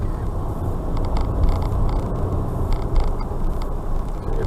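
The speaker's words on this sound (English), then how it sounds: "Check behind, accelerate away, third gear." Car pulling away from a junction onto a major road and accelerating in third gear, a steady low engine drone and road rumble throughout, fairly close, with no talk.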